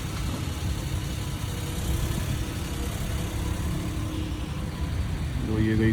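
A Citroen C3 in for brake service idles and pulls away with a steady low engine rumble that stays fairly loud throughout, a slight rise near the end.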